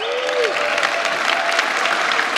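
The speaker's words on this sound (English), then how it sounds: "Right, give them a big round of applause." Audience applause fills a hall at a motivational talk, a dense steady wash of many hands clapping at close range, even and loud for the whole stretch.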